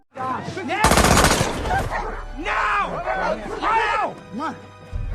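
Heavy gunfire in a war film scene with Nazi German soldiers firing at people trying to escape: a dense, loud burst of rapid shots in the first second, then shouting voices and a barking dog over a low rumble.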